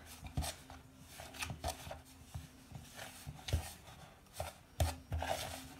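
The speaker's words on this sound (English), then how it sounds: "mix with a wooden spoon until soft" A wooden spoon mixes a soft dough mixture for dough balls in a bowl, giving faint, irregular knocks and scraping taps at close range with no talking.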